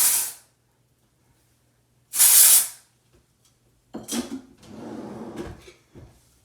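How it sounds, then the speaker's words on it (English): Dry shampoo is sprayed onto hair in two short, loud aerosol hisses, one brief and one longer, followed by quieter rustling and handling sounds nearby. "This is the first time I'm using dry shampoo on my hair"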